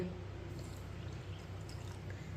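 Water poured into a pot for semolina halwa, a soft continuous trickle and splash at low level, fairly close and steady, with no talk over it.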